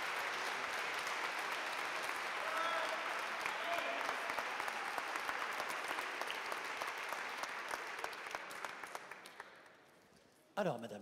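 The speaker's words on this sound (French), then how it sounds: "elle est émue et on peut l'applaudir" An audience applauds a first-prize winner at a youth talent contest ceremony, sustained dense clapping that carries on for several seconds before dying away, followed by a brief knock near the end.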